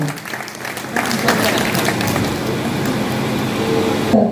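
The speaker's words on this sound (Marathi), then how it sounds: "आपण सर्वांनी टाळ्या वाजवून त्यांचे अभिनंदन करावे" An audience applauds at a club installation ceremony in a hall, with dense, sustained clapping that swells after a moment and carries on loudly to the end, voices faintly mixed in.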